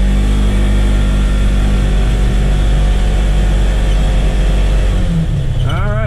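A Polaris Ranger XP1000 fitted with a new Hunterworks belt runs loud and close at a steady high-rev drone that dips slightly near the end.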